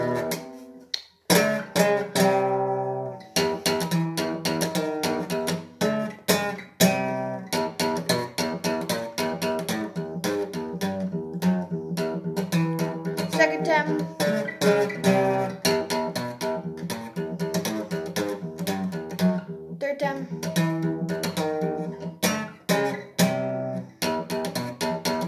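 An electric guitar plays a riff, with fast, tightly chugged notes and accented chord stabs repeating steadily and loud with no talking.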